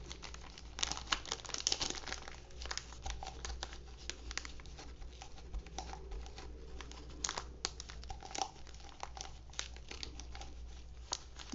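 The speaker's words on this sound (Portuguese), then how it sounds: "Então, sempre coloque um plástico em cima" A plastic sheet laid over a craft piece made from tomato paste cups crinkles and crackles as it is handled, with soft, irregular rustling and sharper crisp snaps throughout, fairly quiet and close.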